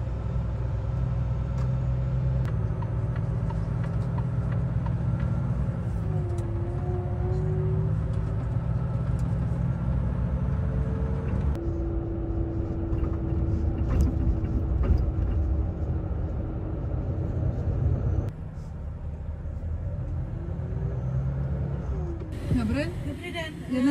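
Steady low engine rumble of a truck rolling along the road from inside the cab, continuous through the stretch with a brief shift near the end, while people talk over it.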